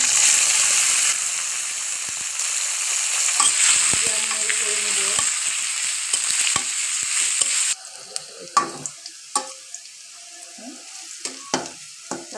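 Onion and bay leaves fry in hot oil in a pan, first as a loud, bright, continuous sizzle, then as a quieter crackle with scraping stirs and sharp spatula taps.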